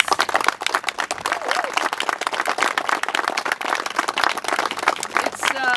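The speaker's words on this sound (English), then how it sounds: "let's give every one of these alpacas here a round of applause." An audience applauds alpacas at a 2014 supreme champion judging in Norway, a lively, continuous burst of many hands clapping close by, with scattered voices mixed in.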